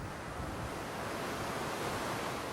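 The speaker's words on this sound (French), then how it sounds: "le bruit du vent" Steady wind and ocean waves rush across the open flight deck of the aircraft carrier Charles de Gaulle at sea, a continuous broadband roar with no voices.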